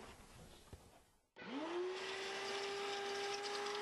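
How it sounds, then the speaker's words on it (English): A vacuum cleaner switches on after a quiet moment and runs steadily with a loud, even whine and roar close by, cleaning go-kart engine parts during reassembly. "Now, we're going to vacuum, get a little vacuum."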